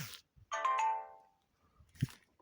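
A mobile phone, one of a batch of cheap handsets, plays a short melodic startup tone of about half a second that fades out, followed after a pause by a faint clatter of handling.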